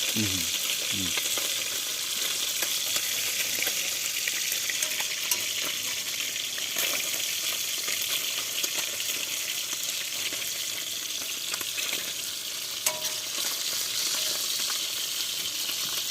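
Fresh fish frying in plenty of oil inside a covered pot, a steady loud crackling sizzle that runs continuously, with a few brief clinks near the start.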